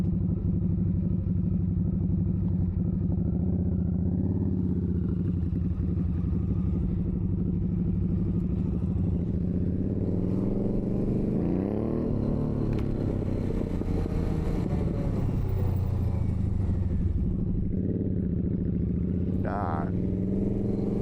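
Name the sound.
loud Harley motorcycle engine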